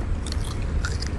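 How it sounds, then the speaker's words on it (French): Close, steady crunching of crisp potato and goat cheese chips being chewed, a dense crackly texture running through the whole short moment with no talking. "C'est très croustillant. Tu vois, c'est de la chips, c'est de la patate et du chèvre."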